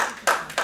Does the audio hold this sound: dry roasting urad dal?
no